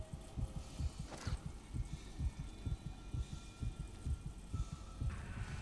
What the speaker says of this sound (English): Is my heart beating?